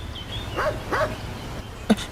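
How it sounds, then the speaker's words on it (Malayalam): A few yelping barks come from a dog somewhere off in the distance in a dubbed Malayalam action thriller scene, faint and spaced out over a hum of background noise, with a sharper bark near the end. "എന്താ സാറേ നായുടെ ശബ്ദം കേൾക്കുന്നുണ്ട്"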